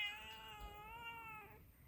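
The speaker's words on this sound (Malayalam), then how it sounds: "ഇവിടെ നമ്മുടെ അടുത്ത് സ്ഥിരമായിട്ടൊരു പൂച്ച വരും കേട്ടോ" A cat gives a single drawn-out meow, faint and a little distant, with quiet room noise around it.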